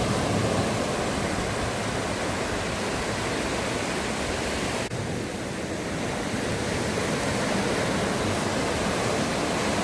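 Sea waves roaring at Dagara beach on the Odisha coast near Balasore: a steady, loud broadband wash of surf with no break, alone and without voices.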